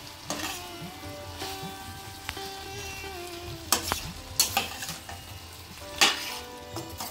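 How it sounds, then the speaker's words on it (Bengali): Chana dal being stirred and fried with spices in oil: a continuous sizzle broken by several spoon scrapes and metallic knocks against the pan, close and moderately loud. "আমি সব একসাথে মিশিয়ে দিচ্ছি।"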